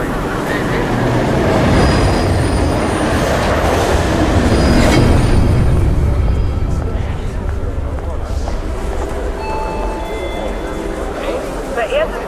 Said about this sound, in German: der auf Gleis A einfahrende Zug ist nicht für den Personenverkehr bestimmt